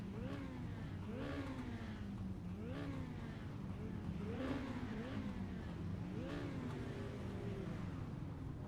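Race cars circle the track during a Modified race, with several classes running together; engines rise and fall as cars pass in repeated sweeps, heard at a distance in a steady drone.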